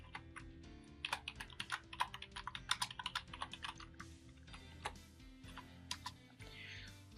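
Fingers type quickly on a computer keyboard while entering Python code, producing bursts of close, crisp key clicks in an irregular rhythm with short pauses.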